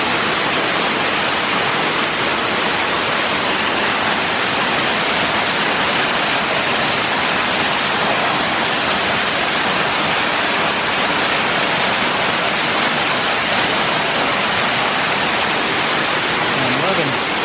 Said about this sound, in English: That is a nice, that's what, 25-foot waterfall here?